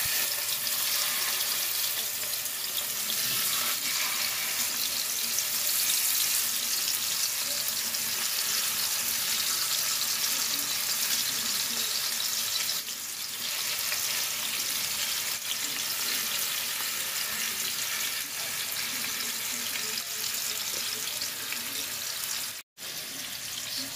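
Marinated chicken sautéing in a mix of white oil and mustard oil for a Bengali moringa flower dish, giving a steady broadband sizzle that runs continuously for the whole stretch, with a brief dropout near the end.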